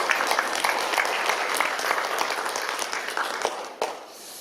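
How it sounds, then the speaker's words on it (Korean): A church congregation applauds during a Sunday worship service, dense sustained clapping filling the room before tapering off near the end, with a faint voice briefly underneath. "다시 한번 박수하도록 하겠습니다"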